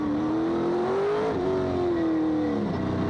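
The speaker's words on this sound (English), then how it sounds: "Lots of throttle used at this part of the circuit on the back straight and on the front straight" Sports sedan race cars accelerate hard on the back straight of a circuit during a 2002 Australian championship race, one loud engine note climbing and then falling away, with continuous engine roar throughout.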